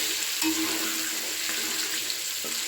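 Potatoes sizzle in hot oil seasoned with turmeric, a continuous close crackling hiss with a couple of soft utensil clicks and stirring movements.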